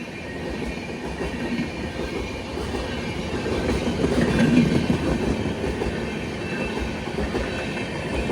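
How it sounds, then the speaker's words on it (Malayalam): A passenger train on the Konkan route rolls past with a steady, loud rumble and rhythmic clatter of wheels on track, swelling slightly midway as the coaches go by, with no voices. "കൊങ്കൺ വഴി പോകുന്ന ട്രെയിൻ ആയതുകൊണ്ട് തന്നെ അടിപൊളി സർവീസാണ്"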